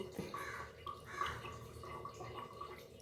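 Lemon juice is poured over a vel during an abhishekam ritual, a faint, close trickle with soft dripping and splashes that continues for a few seconds.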